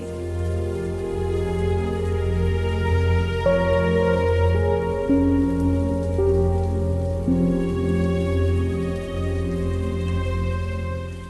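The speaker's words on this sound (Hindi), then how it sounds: "या अल्लाह, ये बारिश कब रुकेगी?" Steady rain falls throughout, a constant wash of sound under sustained musical tones that shift in pitch now and then.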